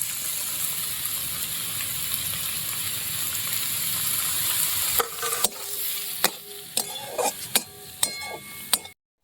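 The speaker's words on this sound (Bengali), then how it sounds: "আমার অনেকটা কষানো হয়ে গেছে দেখুন। এবার আমরা গরম মশলা গুঁড়ো করে নিয়েছি, অল্প দিয়ে দেবো।" Vegetable momo filling sizzles and fries in a pan with garam masala, steady hiss for the first half, then sharp clinks and scrapes of a spoon stirring against the pan, close and alone without talk.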